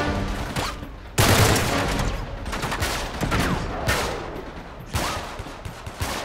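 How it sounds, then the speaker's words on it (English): Gunfire in Uncharted 3: Drake's Deception, with sustained bursts of shooting and loud volleys that return in waves over steady combat noise. "Something keeps shooting at me from this way."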